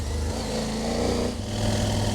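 A CFMOTO Ibex 800T adventure motorcycle engine drones steadily while riding, a close, continuous buzz with no pauses.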